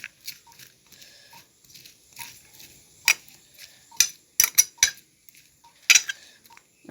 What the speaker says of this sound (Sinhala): දැන් එකතු කරගෙන මේක හොඳට කවලම් කරගමු.